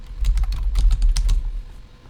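Fingers type on a computer keyboard in a quick burst of a dozen or so close, crisp clicking keystrokes over about two seconds, with no talking.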